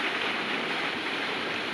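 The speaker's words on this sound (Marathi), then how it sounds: "हे पाणी पडतं तिकडून." Water pours and rushes steadily at a farm, a dense continuous splashing roar, close and unbroken, with no talking.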